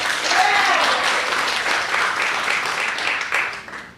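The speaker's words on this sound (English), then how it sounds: "So please, another round of applause for Elijah." A crowd applauds a panelist at a youth leadership panel event, a dense, continuous wash of clapping that holds steady and then thins out toward the end.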